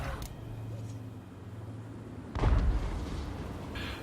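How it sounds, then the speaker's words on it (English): Empire great cannons fire artillery volleys during a Total War: Warhammer battle against Bretonnia, a heavy booming blast mid-clip over a low rumbling battlefield bed, no voices. "we exchanged some volleys with our artillery"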